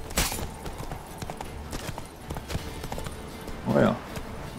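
Hooves of Geralt's horse Roach in The Witcher 3 clop steadily at a moderate pace, with a brief vocal sound near the end over the game ambience.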